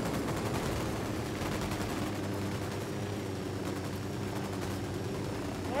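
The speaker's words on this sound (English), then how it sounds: "Spotted one with submachine gun. I'm opening fire." Submachine gunfire in Ghost Recon Wildlands, a dense continuous rattle of rapid shots under a rumbling game battle, fairly steady and moderately loud, with no speech.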